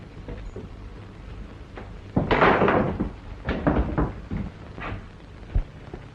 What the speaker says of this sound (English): Get that door open.